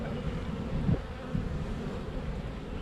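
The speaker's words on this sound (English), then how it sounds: "there's tons of bees on this other side too" Honeybees swarming over fresh virgin comb in a swarm trap make a steady low droning hum, close and continuous, with a couple of brief louder bumps partway through.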